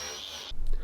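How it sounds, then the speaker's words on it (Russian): Angle grinder fitted with a soft wire brush scouring bark, rot and dirt off a wood slab: a loud, steady high-pitched whirring scrub for about half a second, then it cuts off into a low rumble. "Для этого использую мягкую щетку по металлу на УШМ."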